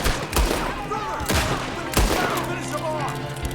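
Gunshots in the Red Dead Redemption 2 video game ring out as a few sharp, loud cracks with echoing tails, mixed with some speech and background game sound.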